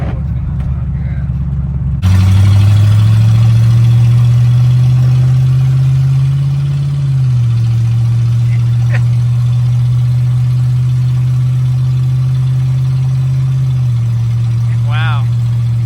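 A 1979 Lincoln Continental engine drones steadily while the car drives, a loud low hum that rises slightly in pitch and then settles for a long run inside the cabin, with brief faint talk near the start.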